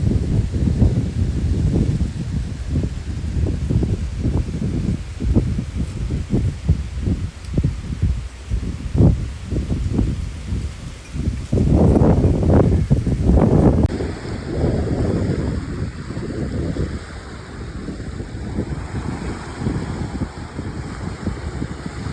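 Strong gusty wind buffets the microphone in uneven bursts, with a steady rushing roar and no voices.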